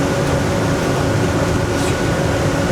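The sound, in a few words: Boston Whaler 330 Vantage boat engine slowing down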